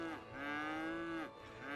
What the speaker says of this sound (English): Moo indeed, yes, thank you.